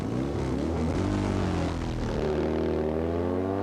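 A Triton 750cc four-stroke twin drag-racing motorcycle at a 1990 Blyton streetbike event drones steadily with a rising engine note, heard at a distance without talk.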